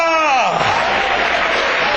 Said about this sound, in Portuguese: Você pode dar glória nessa noite, aplauda